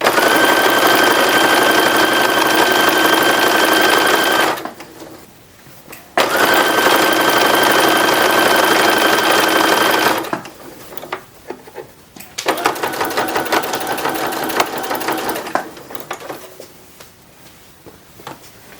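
Sewing machine stitching binding along the front and neckline of a 1910s-1920s style infant wrapper, a steady close whirring run, a pause, another long run, then shorter stop-start bursts.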